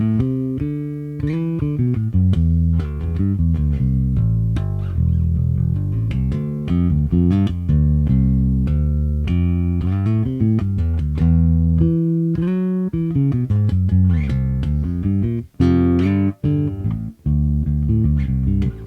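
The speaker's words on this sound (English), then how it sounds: "I'm just going to jam a little bit so you can hear how this bass sounds." A P bass guitar, tuned to standard E and played clean through an Ampeg V4B factory preset, runs through a continuous loud jam of deep plucked notes and melodic runs, with a few short pauses near the end, no talking.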